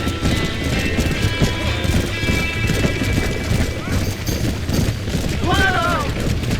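Horses clip-clop amid the chaos of a burning barn in Red Dead Redemption, hooves thudding steadily under a dense layer of crashes, shouting and game noise, with a whinny rising briefly near the end.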